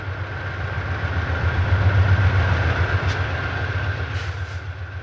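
Santa Fe diesel locomotives at Tehachapi idling and rumbling with a deep steady throb, a constant tonal whine above, a few faint metallic squeals in the distance.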